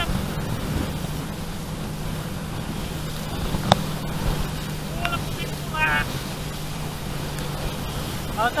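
Sea surf and wind rush steadily during a banana boat ride off Luís Correia, Piauí, with a low motor drone, brief splashes and people shouting and talking over the noise throughout.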